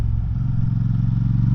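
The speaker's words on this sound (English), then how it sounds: "This aftermarket exhaust does sound nice though" A BSA 650 Scrambler motorcycle engine with an aftermarket exhaust gives a steady, loud, low rumble that holds an even thump throughout, with no talk.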